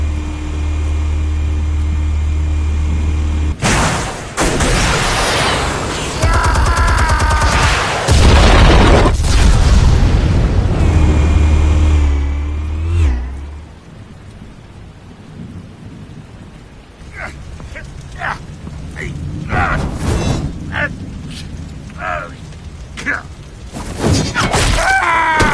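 Heavy booming detonations of explosives in the Batman Telltale game, a loud rumbling blast sequence near the start that fades into scattered debris and crackles, with brief voices later.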